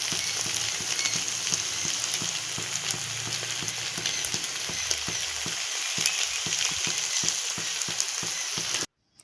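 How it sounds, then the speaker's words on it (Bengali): Fish-head and vegetable chorchori sizzles steadily in a kadai as the liquid cooks down, a dense, close crackle with scattered pops that runs without speech until it cuts off abruptly near the end. "আমি এখন রসটা টানাচ্ছি কড়াতে"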